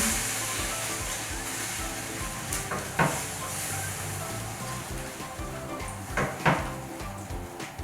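A spoon stirs pasta and milk in a cooking pot, giving a steady, soft swishing and scraping with a faint rhythmic clicking and two sharper knocks against the pot, heard up close with no voices.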